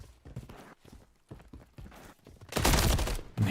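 Bursts of automatic gunfire crackle in a competitive video game gunfight, with several short volleys separated by gaps, then a louder, sustained burst of rapid shots near the end.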